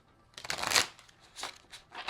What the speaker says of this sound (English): Shuffle this one more time.